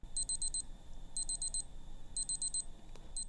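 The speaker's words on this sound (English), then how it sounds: "after the timer goes off, there's actually a beep, because this watch also works as an alarm as well" A Casio Lineage LIW-M700D wristwatch timer alarm beeps in three quick bursts of rapid high electronic chirps, evenly spaced and close, with a fourth burst starting at the end.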